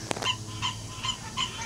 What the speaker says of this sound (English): It's actually just the frogs.